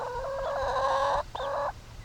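Backyard chickens, now grown fairly large, cluck in a short close burst of layered calls with a brief pause before one more stretch, fairly loud over quiet background.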